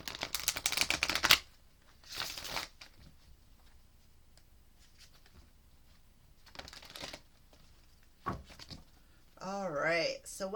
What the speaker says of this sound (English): I'm going to shuffle up the Psychic Tarot cards real quick